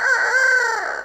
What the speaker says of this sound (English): That's a little green rooster.